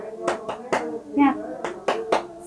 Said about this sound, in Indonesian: sebelum pulang kita tepuk semangat terlebih dahulu yuk